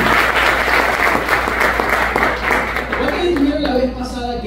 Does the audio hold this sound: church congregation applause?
yes